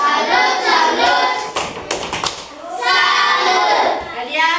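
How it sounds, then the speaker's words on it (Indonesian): A class of children doing a rhythmic 'tepuk salut' clap for a classmate named Alia, with short bursts of many hands tapping together in a patterned beat between stretches of loud chanting voices. "Tepuk salut dulu untuk Alia. Tepuk salut."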